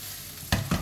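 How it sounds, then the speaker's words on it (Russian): Eggplant and vegetables crackle and sizzle in a hot pan, with two brief bursts of louder frying as they are stirred. "Вот так потихоньку жарим."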